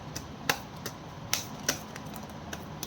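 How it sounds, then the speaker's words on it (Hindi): A deck of cards being shuffled during a tarot-style reading, with a series of crisp, snappy card flicks spaced irregularly, close and moderately quiet with no talking. "this is my last shuffle"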